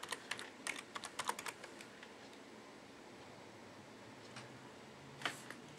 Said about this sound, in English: you can go to your start menu down here, type in services